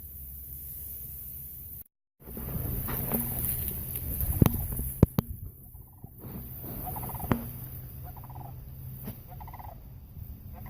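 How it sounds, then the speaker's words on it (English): A flock of cranes calls in a marsh, with rolling, bugling calls repeating steadily over light wind noise, some closer and louder, others fainter in the distance. "So many cranes. Just so many of them."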